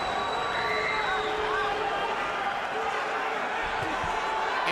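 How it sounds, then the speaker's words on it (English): A crowd at a boxing match roars and cheers, Manny Pacquiao versus David Diaz, in a dense, sustained wash of voices with whistles that fills the arena and holds steady throughout. "And you hear the adoration of the crowd."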